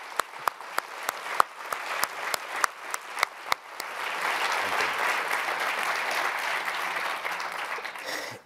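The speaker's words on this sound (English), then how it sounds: "Somebody was about to start some applause, so let's go ahead and join." An audience applauds at a conversation event with Gary Sinise, starting with a few sharp scattered claps that quickly swell into steady, sustained applause from the crowd.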